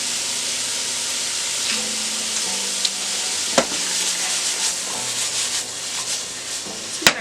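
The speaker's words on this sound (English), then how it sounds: "I got the carrots going here, a little sautizzle on there." Carrots sauté in a hot pan, giving a steady broadband sizzle that runs throughout, close and loud, with occasional scraping and clinks of stirring and no talking.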